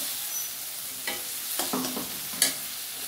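Black pepper and cumin-coriander paste cooks in a pan for a mustard-style fish dish, a soft low sizzle broken by a few spatula scrapes and taps.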